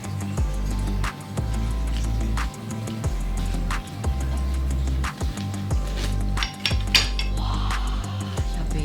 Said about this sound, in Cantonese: 我哋就切咗呢一個炸豬扒先